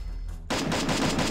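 Gunfire in the Free Fire video game: after a brief quiet moment, a rapid burst of automatic shots erupts and continues as a loud, rhythmic rattle close up.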